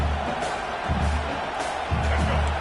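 A stadium crowd at a Clemson vs NC State football game roars and cheers, a dense, continuous wash of distant noise that swells in places.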